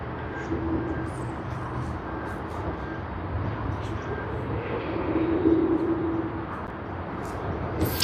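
An airliner lands at Sydney Airport, heard as a broad distant engine roar that builds slightly toward the middle before easing, fairly faint and continuous with no talk.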